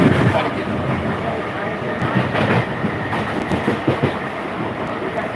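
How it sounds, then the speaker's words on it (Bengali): A train standing on the tracks gives off a steady, fairly loud rumbling wash of mechanical noise, with faint knocks and rattles throughout and voices in the background. "আমাদের এখানে ট্রেন দাঁড়িয়ে আছে"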